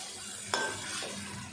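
Half a kilo of chicken frying in a pot with a little water, a loud close sizzle that swells sharply as a stir lands, then settles into a steady hiss.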